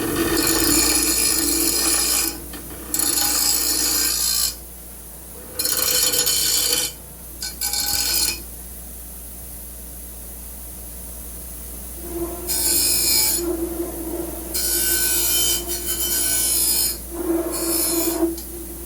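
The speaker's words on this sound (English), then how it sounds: "A file and some sandpaper will really clean this edge up." A hand file and sandpaper rasp back and forth along the cut edge of a metal exhaust pipe on an S650 Mustang, in several sustained scraping bursts separated by pauses.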